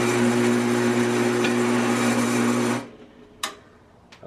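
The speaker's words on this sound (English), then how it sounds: "I don't think I've ever drilled copper before" Steady high whine of a drill boring through copper pipe for battery bars, loud and close, cutting off abruptly near the end, followed by a couple of short sharp clinks.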